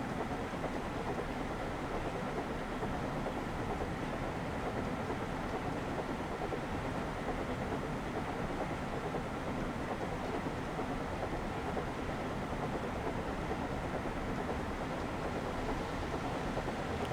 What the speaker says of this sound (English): another train going the other way